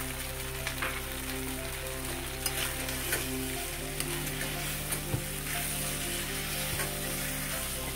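Fried paneer with spring onions and spices is stir-fried in a pan, a steady soft sizzle with occasional light scrapes and ticks of the spatula, no talking.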